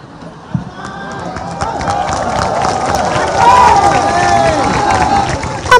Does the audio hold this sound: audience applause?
yes